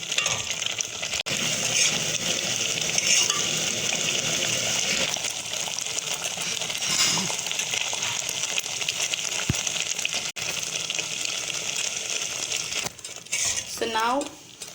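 Tamarind sauce cooking in a pan on the stove for imli ki chutney, a steady close bubbling and sizzling hiss that runs throughout, with occasional light clinks of a spoon or utensil against the pan.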